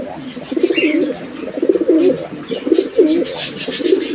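Pigeons at a pigeon farm coo in repeated soft, throaty phrases, close and fairly loud. A faint chirp comes in the background.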